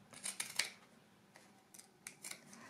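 Scissors snip through excess denim fabric and a jeans pocket at once, several quick close crunchy cuts in a cluster, a pause, then a few more snips, quiet and without speech.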